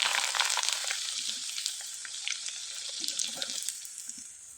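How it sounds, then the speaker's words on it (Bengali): Flour jharna pitha, a crisp Bengali snack, frying in hot oil with a steady bright sizzle and crackle throughout, close and continuous, with faint popping bursts and no talking. "এবার আমি এখান থেকে কিছুটা নিয়ে ভেজে আপনাদের দেখিয়ে দিচ্ছি।"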